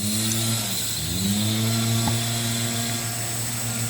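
A whining power drill bores a hole, its pitch dipping and rising as it works, with a faint tick partway through; no voices.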